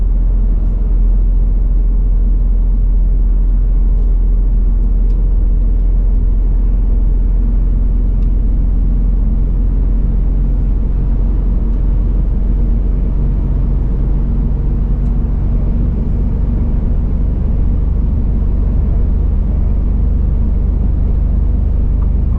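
A truck drives along a road, heard from inside the cab as a loud, steady, low rumble of engine and tyres that carries on without a break.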